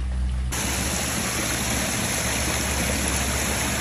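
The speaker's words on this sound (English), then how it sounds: "Brought him to the big waterfall part, the big water slide" Waterfall in a pet otter enclosure, a steady rushing and splashing of falling water that starts abruptly after a brief quieter moment and then continues evenly up close.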